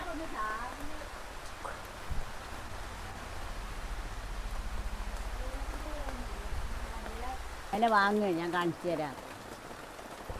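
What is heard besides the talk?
rain falling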